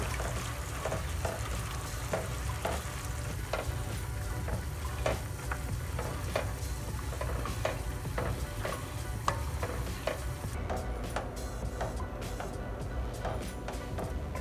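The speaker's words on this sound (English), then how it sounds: "now we're gonna add a little heavy cream and stir a little bit at a time" Heavy cream being stirred into a butter and garlic sauce in a pan for pasta: a steady low sizzle runs underneath soft, regular scraping strokes of the spoon, with no voices.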